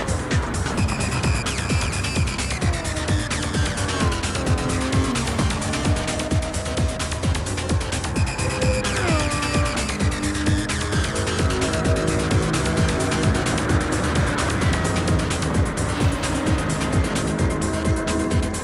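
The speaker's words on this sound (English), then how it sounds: "This 10-minute 750 class race at the Expressway." 750 class race cars run a 10-minute race at the Expressway, with several engines rising and falling through gear changes throughout, loud and continuous, and with occasional tire noise.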